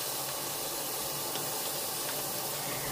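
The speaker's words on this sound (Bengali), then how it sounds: "চিংড়ি মাছগুলো একটু হালকা হলুদ আর লবণ দিয়ে ভেজে নিচ্ছি" Prawns frying in a pan with a little turmeric and salt give off a steady, even sizzle and hiss that holds at a constant level throughout.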